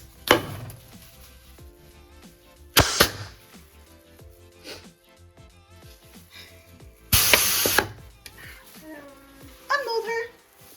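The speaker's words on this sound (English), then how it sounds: "Now we're ready to use the bath bomb press." A bath bomb press pressing a vibrant blue bath bomb. Several loud mechanical clunks and ratcheting bursts stand out over background music, with a voice speaking near the end.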